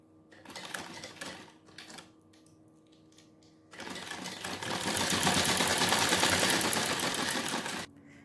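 A sewing machine stitching the waistband casing on a salwar, running in short bursts at first, then settling into a long, steady, loud whirring run before stopping abruptly.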